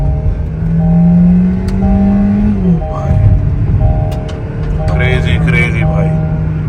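A Kia Sonet GT Line accelerates on the road with the engine rising in pitch, dipping at a gear change and climbing again, heard from inside the cabin with someone talking over it.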